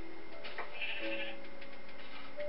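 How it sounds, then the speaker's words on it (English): Sheep bleating in the Minecraft video game, a few short wavering game-sound bleats in sequence, moderately loud with no talking over them. "Freaking sheep."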